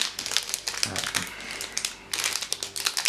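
A Pocahontas POG booster pack's plastic wrapper crinkling and crumpling as it is torn open, in close, uneven bursts with a pause in the middle.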